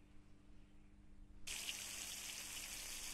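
Water pouring and splashing in The Long Drive driving simulator game, a steady broadband gush that switches on abruptly partway through after a quiet low hum, then runs continuously at even loudness.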